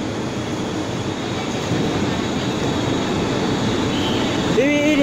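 EMU870 and EMU869 electric multiple unit commuter train on the Pingtung line rumbles past close by with steady wheel and track noise, and a brief high squeal near the end.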